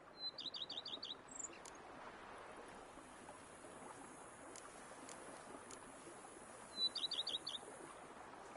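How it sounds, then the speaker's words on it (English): Birds chirp in the countryside of The Witcher 3 game, two quick bursts of rapid high tweets at the start and near the end, over a soft steady ambient hiss like flowing water. "bees buzzing, birds chirping"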